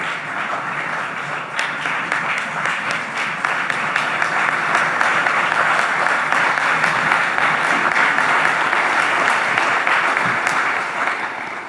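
Loud, sustained applause from a university audience welcoming speakers to a conversation with the Greek Prime Minister, a dense steady wash of many hands clapping that swells and holds for over ten seconds with no talk.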